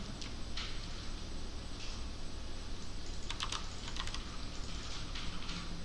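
Quick bursts of clicking keystrokes on a computer keyboard while a background color is entered in code, soft and fairly close over a low steady room hum.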